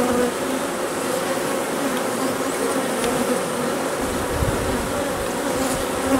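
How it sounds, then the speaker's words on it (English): Dense, steady buzzing of many honeybees close by at a hive ready to swarm, a continuous droning hum with no voices. "A lot of bees though."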